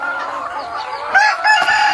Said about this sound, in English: Here's my Australorp